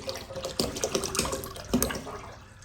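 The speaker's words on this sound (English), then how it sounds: "So I'm going to get the rest of this water in here." Water splashes and gurgles as it is poured into a metal brewing pot on a burner, with sloshing bursts and a few clanks, close by.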